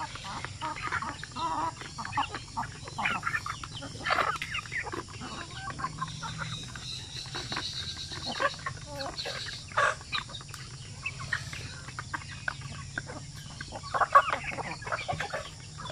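Chickens cluck and peep steadily in a busy coop of chicks a few weeks old, with scattered chirps from young birds over a constant low hum.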